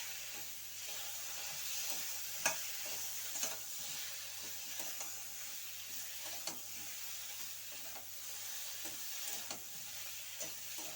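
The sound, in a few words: stirring ginger paste frying in a pan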